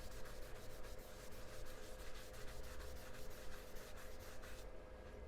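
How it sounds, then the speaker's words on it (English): Wood being polished by rubbing with the grain, a steady close scrubbing hiss with faint rhythmic strokes, continuous and fairly quiet, with no voices. "really is going to have to go with the grain to polish out those finer scratches"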